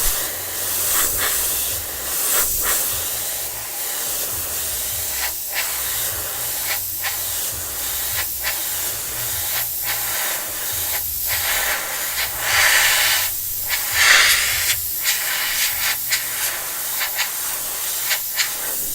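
An airbrush sprays paint onto a Tamiya Volvo FH12 1/14 scale model truck, giving close, steady hissing bursts that repeatedly stop and start with short pauses between.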